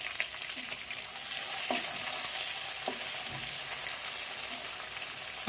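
Two large onions drop into hot oil with mustard seeds and curry leaves, making a loud, steady close sizzle with a few stirring knocks against the pan.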